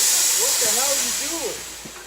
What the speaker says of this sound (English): we vented the Freon right into the Yeah, I atmosphere.